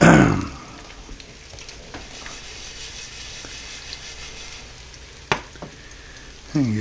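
Potato skins fry in a pan for a big breakfast, a steady soft sizzle running throughout, broken by a few sharp clacks of a utensil against the pan.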